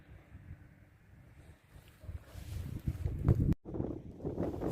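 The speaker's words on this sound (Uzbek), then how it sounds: "Bugun qattiq shamol bo'lyapti." Strong wind blows outdoors where paulownia seedlings in small cups are being planted. It sounds like faint, gusty rushing that swells and buffets the microphone, growing louder in the second half.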